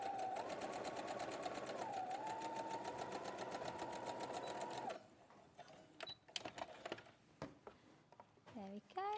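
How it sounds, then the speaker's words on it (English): Sewing machine stitching an understitch along a skirt seam, a fast close mechanical whir for about five seconds that shifts speed slightly, then stops and gives way to a person talking with small handling clicks. "So I'm just going to understitch on here, working from the notches again"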